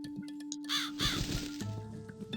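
A crow in the video game The Cat Lady gives a couple of rasping caws in quick succession over a steady droning game soundscape, close and clear, followed by low ambient tones.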